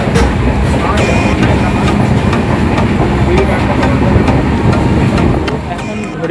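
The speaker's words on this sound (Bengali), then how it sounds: "এখন আমাদের ট্রেন এসে দাঁড়ালো কাঁথি স্টেশনে" The 22897 Digha–Howrah Tamralipta Express rolls along the line with a loud, continuous rumble and rhythmic clickety-clack of the wheels, heard from inside the moving train.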